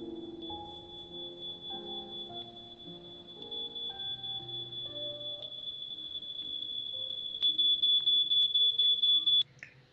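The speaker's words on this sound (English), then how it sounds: "find which smoke alarm is beeping" A smoke alarm's high, steady chirping runs through a simulated 3D sound scene alongside soft piano notes, and it grows louder and more insistent toward the end before cutting off abruptly.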